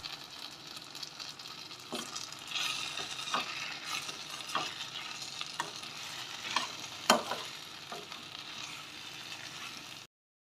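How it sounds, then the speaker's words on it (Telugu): Spiced taro root gravy with chili powder is stirred in a pan, giving a quiet, steady sizzle broken by repeated scraping strokes of a spoon, alone with no voices. "ఒక స్పూన్ కారం వేసి కలుపుతూనే ఉండాలి"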